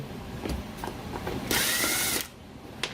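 A power screwdriver backs screws out of an MP40 dry side unit, with brief mechanical clicks, then one short close whirring burst lasting under a second, followed by faint handling taps.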